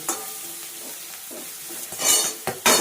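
Peas fry in oil in a pan over a low gas flame, giving a moderate sizzle. Sharp bursts of louder crackling and stirring scrapes come toward the end, with no speech.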